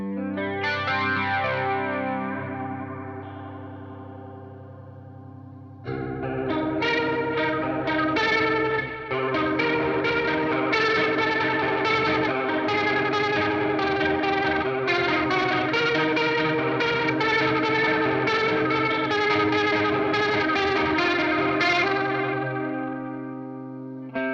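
Electric guitar played through a Deluxe Electric Mistress flanger pedal, the tone swirling and sweeping with a thick chorus-like shimmer, strummed chords ringing out alone.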